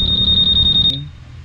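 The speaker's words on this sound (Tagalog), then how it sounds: "Ngayon once na ginalaw mo, alarm, silent mo." Honda Click 150 scooter's anti-theft alarm sounding close and loud as a rapid series of shrill electronic beeps, cutting off abruptly before a short quiet tail.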